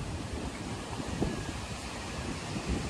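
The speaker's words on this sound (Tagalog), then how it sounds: "medyo malakas lang po yung hangin ngayon kasi katatapos lang ng ulan" Steady blustery wind just after rain at Tai Po Waterfront, Hong Kong, buffets the microphone with a broad rumbling roar, rising in a few gusts throughout.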